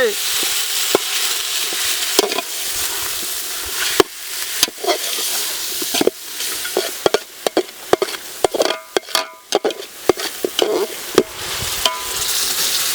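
Chicken pieces, freshly washed, frying in a pan with a steady, loud sizzle and repeated sharp clatters and scrapes of stirring throughout.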